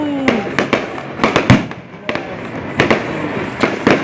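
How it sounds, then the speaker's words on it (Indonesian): New Year's Eve fireworks over Malabo: a rapid series of loud, sharp bangs and crackles, a few whistling rises among them, with people talking and exclaiming nearby. "Kembang api gimana,"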